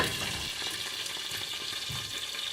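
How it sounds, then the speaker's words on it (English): Sausage fries in a pan with a continuous close crackle and sizzle, with a few soft stirring knocks and no talk. "I'm gonna go ahead and check on our sausage."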